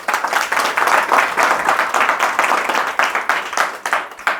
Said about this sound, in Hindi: जोरदार ताली खुदा के लिए।